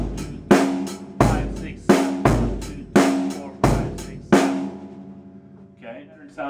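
A drum kit plays a pattern in 7/8: six heavy, evenly spaced hits, each with a ringing decay, played close and loud, then fading out with no talking.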